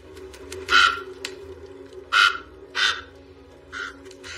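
Several loud, harsh crow caws ring out in separate bursts, four calls spaced unevenly over a low steady background hum in an outdoor medieval-style setting.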